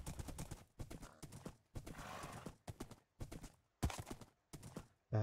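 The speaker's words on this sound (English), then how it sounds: "so we'll take the horse" A horse in the video game Minecraft trots with steady clip-clop hoofbeats in a quick rhythm, joined by a brief whinny, all fairly quiet.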